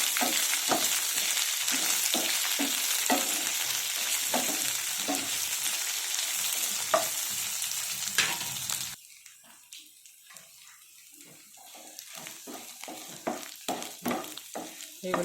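Medium onion pieces and three green chillies frying in a pan, a steady hiss with soft stirring scrapes, the sizzle growing quieter partway through, no talking.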